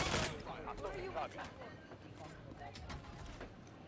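Video game gunfire crackles in rapid bursts, with sharp repeated shots across the whole stretch while players talk excitedly over it.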